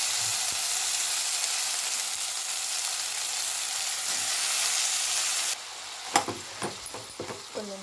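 Broad beans fry in oil with ginger-garlic paste, a steady loud sizzle that drops after a few seconds, followed by clattering stirs in the pan.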